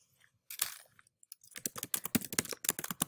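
Quiet typing on a computer keyboard, a few scattered keystrokes, then a brief pause and a quick run of clicks, heard close and alone.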